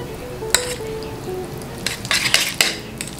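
Utensils clink and scrape against a bowl as food is mixed, with a few sharp knocks and a cluster of rattling stirs near the end, close and alone.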